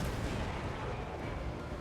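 Dwarf cannon fire from the Warhammer 2: Total War strategy game, a dense, booming battlefield barrage with continuous heavy blasts and rumble filling the whole clip, loud and close.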